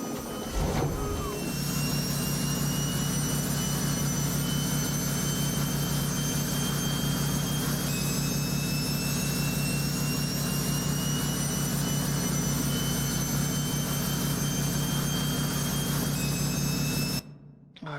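A modded truck engine in American Truck Simulator starts up and spools, a loud steady whine and drone with rising high-pitched tones, holding constant before cutting off abruptly at the end.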